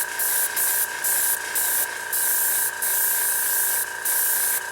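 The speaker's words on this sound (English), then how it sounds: "You just want to, as you're spraying, see a nice sheen" A Badger airbrush sprays Minitaire paint in a steady, close hiss, broken into about seven bursts with short pauses as the trigger is worked, and no voices.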